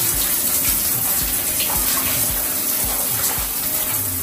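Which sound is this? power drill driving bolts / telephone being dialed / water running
water running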